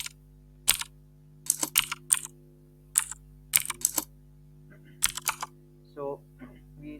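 Someone typing on a computer keyboard in short bursts of quick clacking keystrokes separated by pauses, close and clear over a steady low electrical hum, with a brief murmur of voice near the end.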